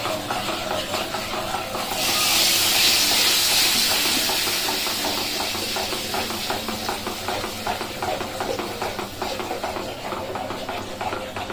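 Tomato puree goes into a hot pan for a paneer masala gravy, bringing a sudden loud burst of hissing sizzle that then settles into a steady, softer crackling fry.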